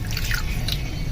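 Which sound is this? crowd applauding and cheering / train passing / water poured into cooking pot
water poured into cooking pot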